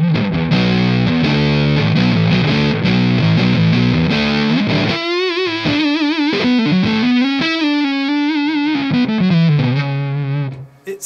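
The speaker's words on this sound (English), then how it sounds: "a gallop through Big Muff style fuzzes" Electric guitar played through a Big Muff style fuzz pedal with two amps running, thick saturated chords giving way to a sustained, singing lead line, loud and alone with no talk.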